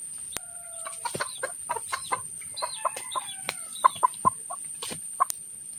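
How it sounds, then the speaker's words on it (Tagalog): A fighting rooster clucks in a steady string of short, sharp notes, close by, with occasional higher squawks and sharp clicks, and no talking. "First manok tayo, first manok."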